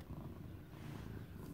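A pet cat purring close by, a steady low rumbling throb that continues without break for about a second and a half, with no talking over it.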